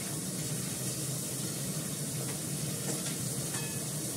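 Cumin seeds and asafoetida crackle in hot oil for a tadka, a dense, even sizzle held close and loud throughout, with no voices.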